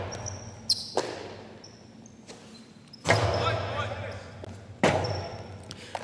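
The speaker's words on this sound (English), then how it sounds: "Rebote forehand by Douglas. Hyro makes the catch. Backhand" Jai-alai ball cracking off the court walls and caught in a cesta during a professional match, several sharp hard impacts echoing in a large fronton, under continuous play-by-play commentary.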